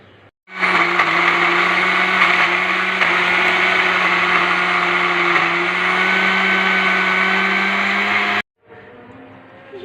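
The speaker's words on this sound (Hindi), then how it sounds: "ये हमने मिक्सी में डाला, ठीक है, इसको करेंगे ग्राइंड" A kitchen mixer-grinder blender whirs loudly and steadily for about eight seconds as it grinds ingredients, starting abruptly and cutting off at the end, with quiet room tone before and after.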